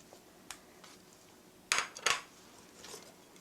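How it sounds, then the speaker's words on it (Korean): Knife cutting through a block of tofu on a board while cooking mapo doufu, a few soft taps then two sharper close knocks of the blade, faint and sparse. "국물이 끓는 동안 두부 썰어 보겠습니다."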